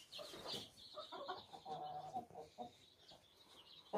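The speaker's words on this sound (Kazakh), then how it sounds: "Осы бізде тауықтар." Chickens cluck softly inside a heated brooder, with a quiet, uneven run of calls and murmurs that overlap throughout.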